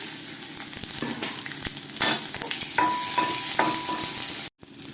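Small onions and dried chillies sautéing in a pan for Tirunelveli-style dal kuzhambu, a constant close sizzle broken by scraping stirs and spoon taps, ending abruptly.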